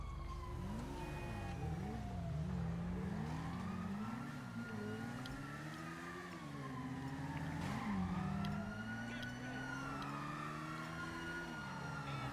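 Police sirens wail in Grand Theft Auto V, sweeping tones rising and falling over a loud, continuous car engine roar and traffic noise, with no one talking.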